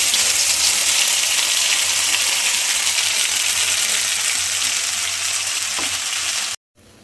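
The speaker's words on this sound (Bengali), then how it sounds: "এইবার মটরশুঁটির পেস্টটা, এর মধ্যে তো আধা আর কাঁচা লঙ্কা দেওয়াই রয়েছে, তো এইটা আমি ঢেলে দেবো তেলের মধ্যে" Green pea paste mixed with green chilli tipped into hot oil in a pan for a kachori filling, giving a loud, steady close-up sizzle and hiss that cuts off abruptly near the end.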